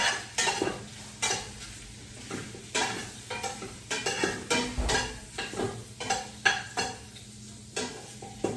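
A spoon stirs ham bone meat as it browns in a pot, repeated scraping strokes in a steady rhythm over a soft sizzle, close and clear with no talk.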